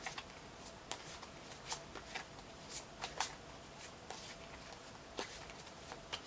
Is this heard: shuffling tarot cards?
yes